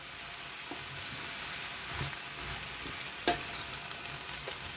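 Fried cabbage wilting in a pan, a soft, low, steady sizzle with occasional light clicks of stirring, faint and close, with no talking.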